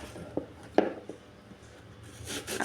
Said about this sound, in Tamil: இப்போ ஆப்பிள் வந்து நம்ம கட் பண்ணிக்கலாம்.